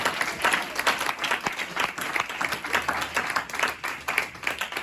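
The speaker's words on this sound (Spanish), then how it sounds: "¿Cuánto le damos un fuerte aplauso al Señor por las hermanas?" A church congregation claps steadily throughout, a dense rhythmic applause of many hands at moderate distance, continuous with no speech over it.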